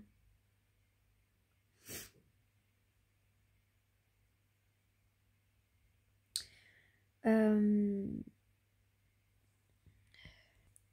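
A single sharp sneeze bursts out, followed by a short vocal sound and a faint breathy noise near the end, against a low steady hum.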